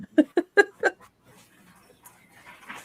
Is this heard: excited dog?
yes